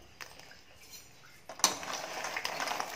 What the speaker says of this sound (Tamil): இதில் சேர்த்து நல்லா பரட்டி விட்டுடலாம்.